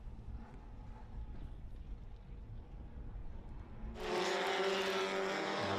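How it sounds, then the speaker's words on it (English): American muscle race cars of SVRA Group 6 rumbling at Laguna Seca, a continuous low engine drone from a distance, then a sudden loud rush of wind buffeting the microphone. "I'm hearing the rumblings of our next group, which is the American Muscle Horsepower Group 6 cars"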